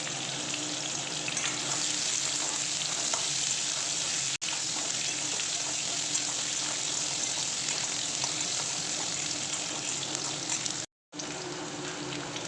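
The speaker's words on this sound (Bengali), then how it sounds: "আমি এখন দিয়ে দিলাম নুন আর হলুদ নুন আর হলুদ দিয়ে তো এখন আমি ভালো করে আবারও ভেজে নেব আলুটা" Potato pieces frying in hot oil with salt and turmeric, a loud, continuous close sizzle and hiss, broken by two brief silent gaps.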